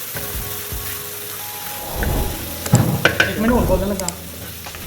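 Minced beef with onions and tomatoes cooking on a tawa, giving a soft continuous sizzle with scraping stirs and clinks that grow busier midway, while someone talks over it.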